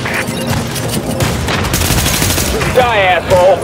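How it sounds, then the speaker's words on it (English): Missile barrage in the video game The Division, a loud, dense volley of overlapping blasts and rapid gunfire with a rising whistling streak near the end, under occasional shouted voices. "Preparing missile barrage!"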